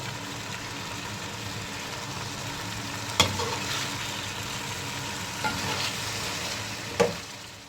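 Pieces of meat for haleem fry and get stirred in a pot, giving a steady close sizzle with a few sharp clacks of a spoon against the metal.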